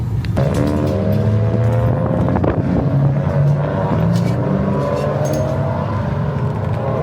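Race cars at the start of Saturday's ChampCar endurance race in wet, rainy conditions roar steadily close by, with layered engine whines and gear changes over constant wind buffeting the microphone.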